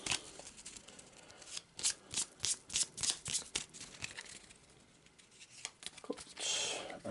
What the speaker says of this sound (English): Well, shuffle again.